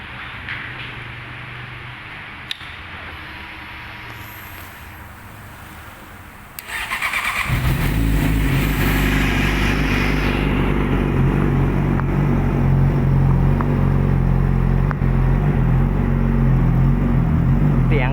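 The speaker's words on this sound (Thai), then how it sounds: "เดี๋ยวผมจะพามาฟังเสียงเครื่อง ว่า มันเป็นยังไงบ้าง" A 2017 Yamaha YZF-R6 ABS sport bike with an aftermarket slip-on exhaust starts after a few quiet seconds, then settles into a loud, steady idle close by.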